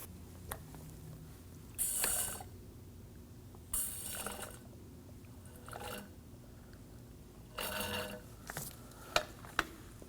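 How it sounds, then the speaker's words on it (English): A handheld fluid extractor draws coolant out of the reservoir of a Nissan Armada with a 5.6L V8, giving several short, hissing pump strokes and sucking bursts separated by quiet pauses, with a couple of sharp clicks near the end. "Now I'm going to use a fluid extractor and I'm going to get some of the coolant out of the reservoir."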